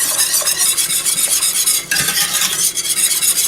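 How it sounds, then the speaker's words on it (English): Cornstarch being whisked steadily into gravy, a continuous dense scraping and swishing texture, fairly loud and close, with a brief dip near the middle and no talking. "I just sort of add it in slowly and whisk it at the same time to help prevent any lumps"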